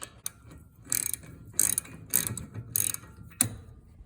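Ratchet wrench clicking in short bursts as a 17mm lower shock mount bolt is tightened on the rear strut of a 2008 Mazda RX-8, several quick ratcheting runs separated by brief pauses, close and clear with no talking.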